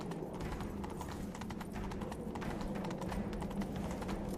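Steady, rhythmic hoofbeats of a horse galloping without pause in The Witcher 3 video game, at moderate volume over a constant background hum.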